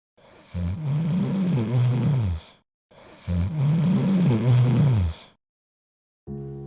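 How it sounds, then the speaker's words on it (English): A man snores loudly and close by in two long, rasping, rumbling breaths separated by a brief silence, with another snore starting at the end. "the man lay down and began snoring"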